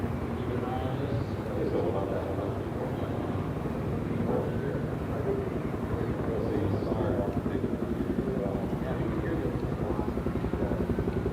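A firefighting helicopter (Firebird 411) at the Pacific Airshow on the Gold Coast passes with a fresh water load from a lake, its steady rotor beat and turbine roar loud and continuous, with people talking underneath.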